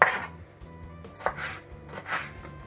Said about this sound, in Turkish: İnce ince doğruyoruz.